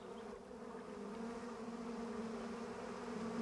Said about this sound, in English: No wasps.